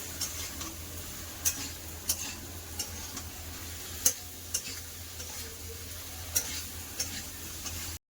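Potatoes and ridge gourd fry in a pan under a soft continuous sizzle, punctuated by sharp spatula taps and scrapes roughly every half second to second as the vegetables are stirred, close by.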